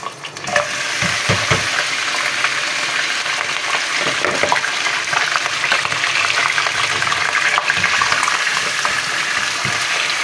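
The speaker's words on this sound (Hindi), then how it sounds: "ये गोश्त ना अच्छी तरह हमने भून लेना है" Beef pieces frying in a pot for qorma, a loud, dense sizzle with bursts of stirring and occasional clanks, continuous throughout.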